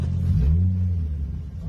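An S3 hatchback car engine revs in a played recording, a deep low rumble swelling briefly then settling into a steady idle, fairly loud and heard alone without talk.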